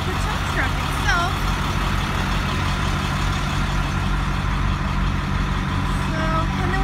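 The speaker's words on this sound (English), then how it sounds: "And then we have the tow truck itself" Tow truck engine running steadily and loud close by, a constant low rumble with faint higher tones over it, outdoors in the mountains at night.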